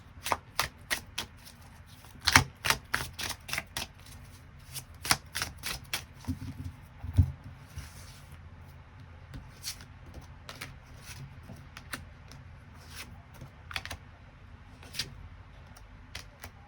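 Tarot cards are shuffled and drawn at close range, with a long run of crisp, irregular snaps and flicks, some sharper slaps standing out, all fairly quiet with no voice.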